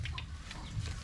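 A rooster on a farm in Dharmapuri gives a few short clucks, close and fairly clear over a low background murmur.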